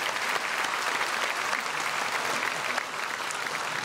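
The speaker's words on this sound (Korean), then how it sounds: "크게 박수로 환영해 주시면 감사하겠습니다" A church congregation at a Sunday worship service applauds to welcome a visiting guest, a thick, even wash of many hands clapping that holds steady for several seconds.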